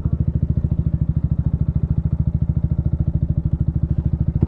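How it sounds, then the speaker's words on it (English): A 50cc supermoto motorbike with learner plates putters past up close, its small single-cylinder engine giving a loud, rapid, even pulsing note that holds steady before cutting off. "It looks like a Ryzu Supermoto with L plates, 50cc"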